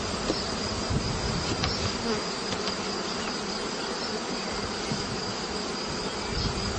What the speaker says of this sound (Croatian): Na ovoj pomoćnoj fornici također ima nekoliko pčela.